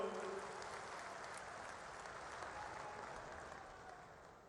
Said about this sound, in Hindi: खूब जोरदार तालियों